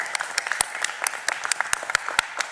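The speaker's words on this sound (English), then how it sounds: "Give him a round of applause" An audience at a Philadelphia gathering of city leaders applauds, crisp individual claps ringing out in a loose, uneven patter at moderate volume from a modest crowd.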